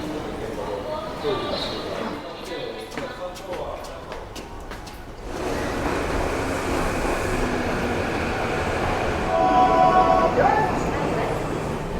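A Tokyo commuter train rumbles steadily along, with a rattling, roaring ride noise that grows louder partway through, and a voice talks briefly early on.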